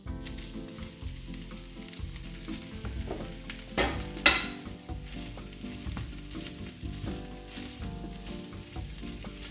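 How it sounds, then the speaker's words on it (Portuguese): Corn kernels fry in a pan alongside golden-browned onions, giving a steady sizzle with occasional stirring scrapes and one louder clatter midway, no voices. "O milho precisa ficar na frigideira por uns 5 minutinhos até ele começar a ficar mais douradinho."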